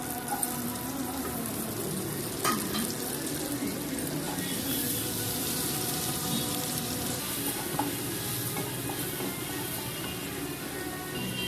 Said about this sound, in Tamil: பொடியாக நறுக்கி வச்சு வெங்காயம் சேர்க்குறோம்.